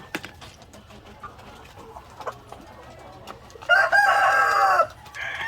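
Black Australorp hens on a farm cluck in short scattered calls, then one bird breaks into a loud drawn-out squawking burst near the end, close by with no talking.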